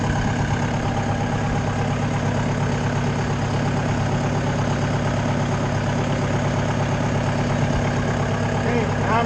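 A Mayco LS-40 concrete pump's engine runs steadily at a throttle-raised idle, a dense, continuous low rumble that stays loud and unbroken throughout.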